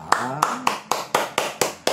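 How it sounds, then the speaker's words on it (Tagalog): An audience at a political speech claps in slow unison, eight sharp, evenly spaced claps, with a voice faintly underneath. "Palakpak ang mga walang hiya."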